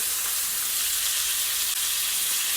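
Salmon steak searing in a hot pan just after being turned, giving a loud, steady, close sizzle and hiss that runs unbroken throughout.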